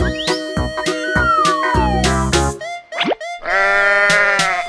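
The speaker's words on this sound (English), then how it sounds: "Sheep." A sheep bleats in a loud, wavering cry at the end, preceded by playful cartoon music with plinks, a descending slide and a quick squeaky sweep.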